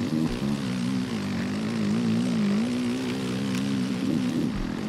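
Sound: motorcycle engine in the video game MX vs ATV Legends

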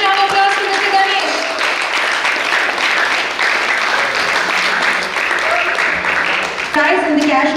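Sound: audience applause for painting competition prize winner

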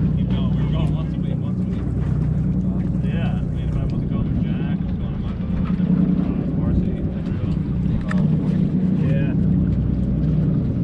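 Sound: electric trolling motor running on boat

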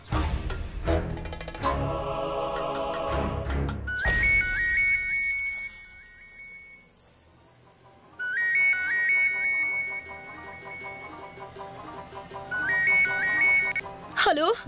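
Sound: phone ringtone

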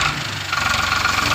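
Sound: Farmtrac 60 tractor engine running with Shaktiman super seeder

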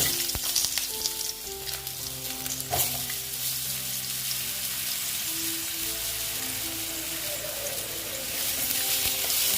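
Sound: potatoes frying with cumin tempering in a pan

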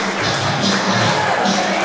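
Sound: wrestling crowd clapping and cheering

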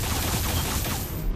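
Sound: gunfire in the video game Alien Rage

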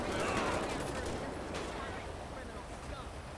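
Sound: gunfire in a shootout, video game GTA 5

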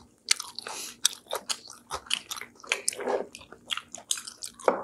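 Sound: crunchy chewing of sauce-coated crispy fried food

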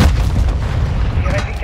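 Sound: airstrike bombardment explosion in video game Modern Warfare 2

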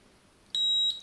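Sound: multimeter beeping in diode check mode as probes touch

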